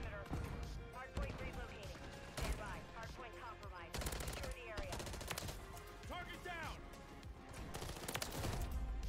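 Rapid gunfire in Call of Duty Modern Warfare 3 multiplayer: bursts of automatic shots, with a Striker 9 in use, crackling over a busy game mix of effects and voices, fairly loud and continuous.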